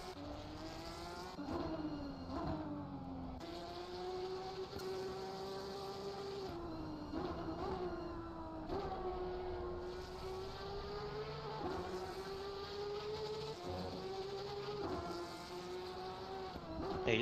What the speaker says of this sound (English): Hey, these cars sound so good from this camera angle.